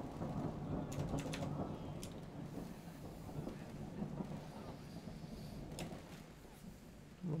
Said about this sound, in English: Oh, flash of thunder. Not as big this time.